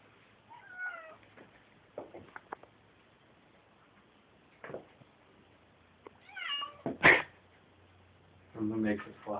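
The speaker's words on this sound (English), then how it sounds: "Look at the cat." A house cat meows several times in short, rising calls, one loud and close near the middle, spread across quiet gaps, with people talking in between and a small bird indoors nearby.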